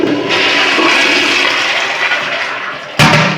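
A Marriott-standard pressurized-tank toilet flushes with a loud, sustained rush of water that tapers off before a sharp final burst near the end.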